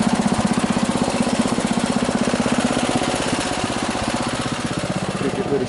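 Snowmobile engine idling in neutral, a steady close mechanical chug with a fast even pulse that holds for several seconds without break.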